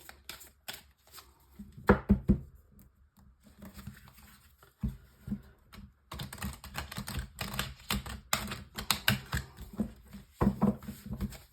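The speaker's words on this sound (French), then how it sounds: "Alors, on fait un tirage en 9 cartes." Tarot cards being shuffled and dealt out for a nine-card reading: bursts of close, crisp riffling and soft slapping clicks, a quiet stretch in the middle, then denser rapid shuffling patter, with no talking.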